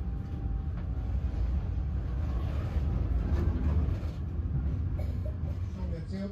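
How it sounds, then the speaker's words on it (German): A historic 1961 Rotterdam museum tram rumbles steadily, with a dense low rolling noise and a few faint metallic squeals, while a person talks over it. "Diese Straßenbahn ist gebaut worden 1961 und gehört zu Rotterdams Openbaar Vervoermuseum."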